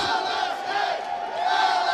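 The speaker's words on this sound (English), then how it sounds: "a round of applause for both these athletes" A large crowd roars and cheers continuously, a dense wall of voices swelling again toward the end.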